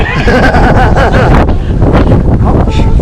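Strong wind buffeting the microphone on a beach during a windy sailing event, a loud continuous roaring rumble with gusty surges, nearby boats and surf blended in.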